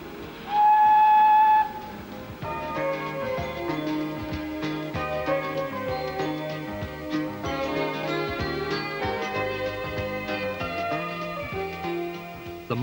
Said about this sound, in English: For this is the famous Ffestiniog Railway.